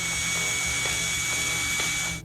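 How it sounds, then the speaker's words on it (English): A power drill bores ventilation holes into a backpack, a steady high whirring drone that holds for about two seconds and then cuts off abruptly. "Drill holes for ventilation."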